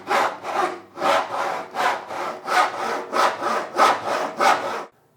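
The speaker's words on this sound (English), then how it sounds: "Who needs a gym membership when you're going to handsaw everything," A handsaw cuts through a wooden board from an Ikea futon, about ten rhythmic rasping back-and-forth strokes, loud and close, ending abruptly in silence.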